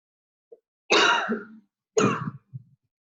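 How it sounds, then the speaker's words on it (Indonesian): Two coughs, close and fairly loud, about a second apart, followed by a short throat-clearing grunt; a tiny click comes just before the first. "Maaf ya saya batuk."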